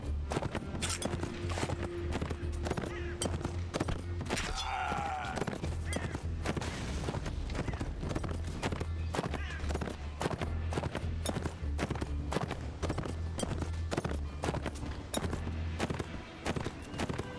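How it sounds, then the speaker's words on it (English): Rapid, dense hoofbeats of a horse galloping in the video game Mount and Blade, continuous and loud, mixed with busy battle clatter and occasional gunfire-like cracks. "Okay, I'm gonna get on the horse."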